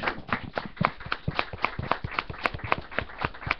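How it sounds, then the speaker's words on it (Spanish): A small group claps in welcome for a teacher named Iliana in a classroom gathering, with individual hand claps distinct and uneven, steady for several seconds at moderate level. "vamos a darle un aplauso para que se anime"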